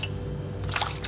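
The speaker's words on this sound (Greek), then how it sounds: "Βάλω νερό. Εκεί. Λοιπόν, νερό, full νερό." Water pours into a baking dish holding a mustard mixture before it goes in the oven, a short splashy gush arriving after a quiet start and lasting about half a second.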